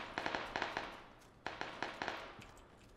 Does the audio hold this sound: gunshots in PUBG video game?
yes